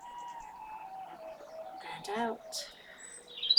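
Birdsong outdoors during a calm yoga session, a few short chirps and calls rising briefly around a soft speaking voice, with a brighter tweet near the end.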